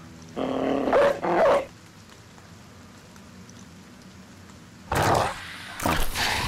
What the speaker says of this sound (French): On va lâcher le chien.